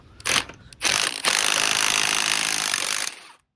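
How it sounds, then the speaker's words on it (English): An impact wrench hammers at a cracked, tack-welded subframe bolt on a boosted BMW E36 M3. A couple of short bursts come first, then a loud, continuous, close rattling buzz that lasts about two seconds and stops abruptly. No one speaks. "let's see if the impact will rattle it loose"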